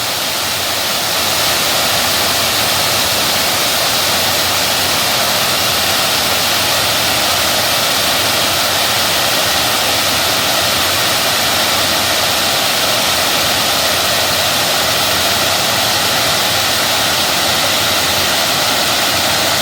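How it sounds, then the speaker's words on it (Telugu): Water cascades over a village tank weir, dropping step by step from height, a loud continuous roar and rush of water with no other sound. "మరో మత్తడి కూడా ఎలా దుంకుతుందో. ఒక్కొక్క ఎత్తు నుంచి ఎలా నీళ్లు సహజంగా పారుతూ గలగలలతో"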